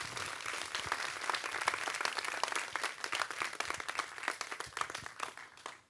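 Conference audience applauding steadily at the close of an event, dense clapping from a crowd in a hall that sustains for several seconds and gradually thins out toward the end.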